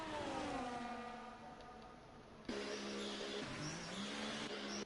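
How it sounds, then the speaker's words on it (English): Ferrari Formula 1 cars in a racing video game pull into the pits, engines whining at high pitch and shifting, with a sharp cut midway to another car's rising and falling engine note, loud and steady throughout. "We got Ferraris coming in the pits."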